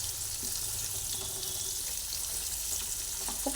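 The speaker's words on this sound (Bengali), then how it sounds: "এরপরে কাঁকড়গুলোকে ভেজে নিচ্ছি" Kakrol (teasel gourd) pieces fry in oil with a steady, faint sizzle that runs throughout, ending in a brief louder clatter.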